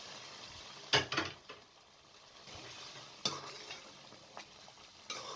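Boiled mixed lentils are added to fried masala in a pan and stirred, with a soft sizzle underneath, a few sharp spoon clanks against the pot and scraping strokes, all fairly quiet and close.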